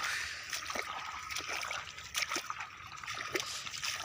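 Irrigation water runs through a maize field channel, a quiet, continuous trickle broken by small splashes and gurgles.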